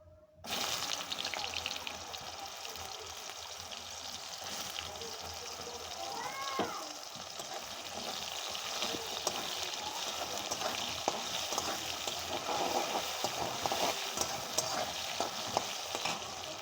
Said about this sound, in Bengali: এটাকে বেশি একটু ভাজা ভাজা হবে